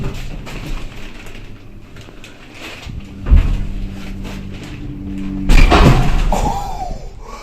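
Lift doors on a hydraulic elevator sliding shut with a dull thud, then a louder clunk as the car settles, heard close in a quiet indoor space with no talk.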